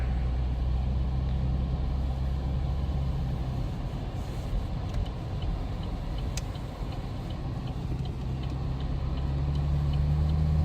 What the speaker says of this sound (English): this is what it's like to drive in a little town, and I'm sliding right now